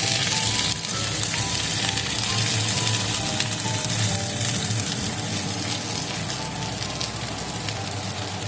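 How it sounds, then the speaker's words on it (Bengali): Loud, steady sizzling of spices in a hot pan with scraping and stirring throughout, close and busy, no talking. "মশলাগুলো আমি সব প্যানের মধ্যে একটু নাড়াচাড়া করে ওগুলোকে একটু তৈরি করে নেব"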